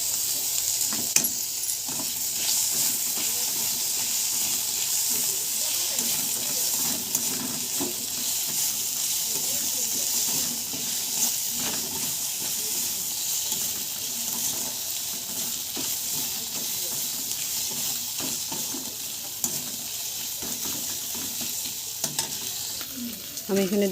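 Shrimp with ridge gourd and freshly added chopped tomatoes fry in a pan, giving a steady, close sizzle throughout with occasional soft stirring scrapes. No one speaks.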